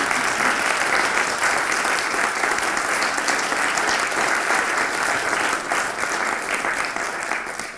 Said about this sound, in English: could everybody else give them a round of applause?